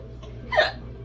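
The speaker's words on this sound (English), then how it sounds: "I have the hiccups." One distinct, fairly loud hiccup, close and brief, in an otherwise quiet room.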